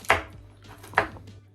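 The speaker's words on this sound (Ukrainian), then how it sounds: "горіхи, які нам теж треба чуть-чуть подрібнити. Це можна ножем зробити" Two sharp knife chops through nuts on a board, close up, spaced about a second apart with quiet in between.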